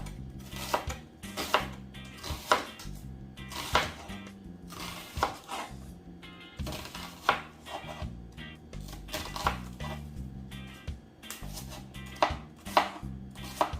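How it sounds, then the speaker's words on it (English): An onion being chopped on a board for Jamaican brown stew pork, a fast, steady run of sharp knife strikes close up, with a faint low hum underneath and no talking. "I'm going to chop some onion."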